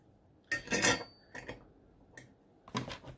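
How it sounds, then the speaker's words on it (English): A bolt on a homemade saw blade drill being tightened, giving a few separate metallic scraping and ratcheting bursts, close and moderately loud, with quiet pauses between them. "Now we'll tighten the second bolt to that."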